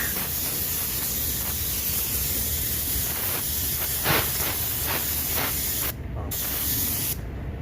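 Paint spray gun laying down metallic car paint: a steady, loud, continuous hiss of atomized spray that runs almost unbroken, with two brief cutoffs near the end as the trigger is released.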